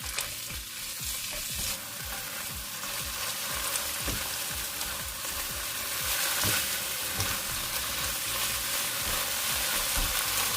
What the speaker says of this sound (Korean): 팬에 들기름 2큰술을 두르고 묻혀놨던 고사리를 넣고 중강불에서 볶아줍니다